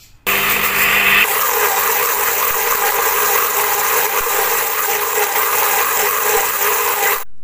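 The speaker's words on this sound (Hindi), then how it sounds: "ब्लेंडर जग को आपने सिर्फ 1 मिनट चला लेना है।" A loud blender motor whirs continuously up close, a dense grinding roar starting abruptly and running steadily for several seconds without voices.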